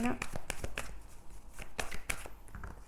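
A deck of cards being shuffled by hand, with repeated riffling bursts and soft slaps close by, while someone speaks over it during a card reading.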